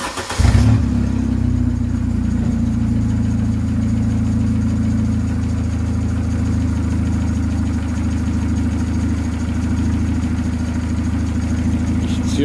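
Car engine with 300,000 km on it running loudly and steadily throughout, with a deep droning tone and slight revving early on, during a crankcase ventilation test; no talking.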